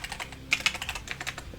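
Fingers tap on a computer keyboard in a quick, uneven run of close, light keystrokes, with a couple of sharper clicks in the middle and no voices.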